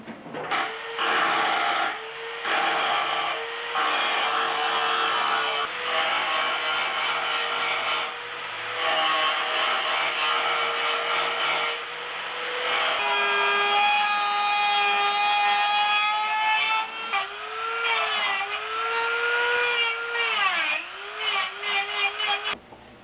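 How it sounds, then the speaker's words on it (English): A Dremel rotary tool grinding welds inside the floor and frame of a 1976 Mazda RX-5 Cosmo under restoration, a continuous high whine that bogs and rises in pitch as the bit loads against the metal, close and steady. "In a tight space like this, sometimes you have to be a little inefficient with the grinding bits."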